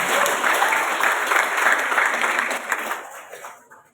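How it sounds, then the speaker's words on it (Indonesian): Hearty audience applause at an Indonesian poetry reading event, a thick wash of clapping at full strength that holds steady and then fades out over the last second. "Kita beri tepuk tangan yang mulia."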